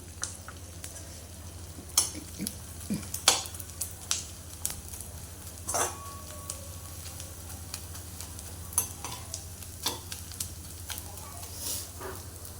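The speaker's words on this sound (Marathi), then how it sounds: "आपण सगळा डिंक तळून घेऊया तुपामध्ये" Pieces of edible gum (dink) frying a little at a time in hot ghee, a quiet steady sizzle with scattered stirring clicks and taps, fairly soft throughout.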